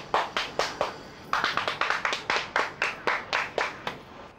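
Isolated hand claps at a Hindi comedy serial scene about a hunger strike, a small group clapping in a steady, fairly even rhythm of sharp, close claps, with a brief pause before the clapping resumes.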